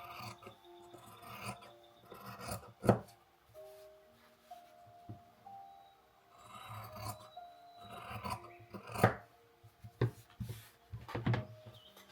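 Scissors trim the excess fabric along the sewn edge of a triangular fabric bookmark, giving a few crisp, close snips among soft rubbing and rustling of cloth, with no talking.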